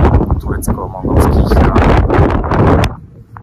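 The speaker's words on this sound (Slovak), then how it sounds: "Je to pomerne dosť silný vietor, tak to dúfam, že bude počuť." Strong wind gusts buffet the microphone at a hilltop fortress in northern Georgia, roaring loud and close in uneven surges, with someone speaking over it.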